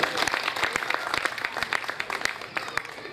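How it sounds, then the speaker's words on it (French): Audience applause at a formal celebration hosted by the Consulate General of Guinea, dense steady clapping from a crowd, fairly close and continuous throughout with no talking over it. "que je demande d'applaudir s'il vous plaît"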